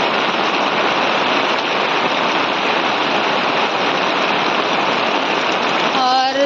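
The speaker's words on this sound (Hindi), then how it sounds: "3 या 4 दिन हो गया लगातार बारिश हो रही है," Heavy rain has fallen without stopping for several days over farm fields. It makes a loud, unbroken hiss that holds steady throughout, with no voices over it.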